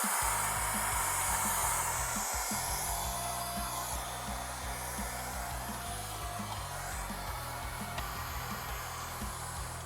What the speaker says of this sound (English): let's vacuum some of these up.